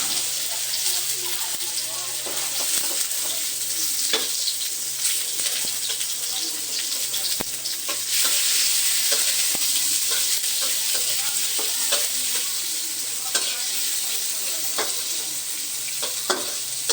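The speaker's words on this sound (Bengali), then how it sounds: "মরিচ ভাজা শেষ, এখন পেঁয়াজ দিয়ে দিতেছে।" Onions hiss and crackle steadily in hot oil in a pan after chilies were fried, with stirring clinks and scrapes throughout and faint talk in the background.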